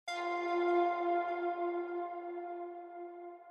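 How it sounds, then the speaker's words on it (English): A processed synth pluck from an Audio Imperia library rings out as one bell-like tone, rich in harmonics, decaying slowly over several seconds, clear and alone. "I just wanted it a bit different"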